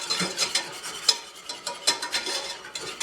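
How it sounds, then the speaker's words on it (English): A whisk stirs sugar and cinnamon into a rum glaze in a pan for a peach pineapple glazed ham, making quick, rhythmic scraping and swishing close by with a light sizzle underneath. "Pull out your whisk and whisk that around until that sugar melts."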